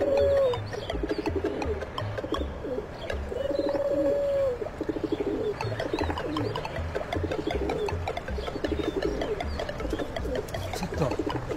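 Pigeons coo in repeated soft, throaty phrases close by, several calls overlapping amid a busy outdoor background with faint chirps.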